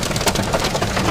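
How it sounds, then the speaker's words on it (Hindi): Heavy hail pounds a car during a violent rain and hailstorm, a dense, continuous loud clatter of hailstones on the vehicle's body close around the listener. "आप आवाज़ सुन सकते हैं किस प्रकार से यहाँ पर ओले हैं।"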